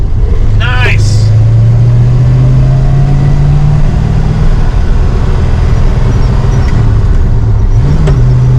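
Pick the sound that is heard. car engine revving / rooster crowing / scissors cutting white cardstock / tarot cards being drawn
car engine revving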